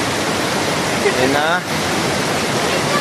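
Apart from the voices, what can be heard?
rushing river water at a crossing near Ditumabo Mother Falls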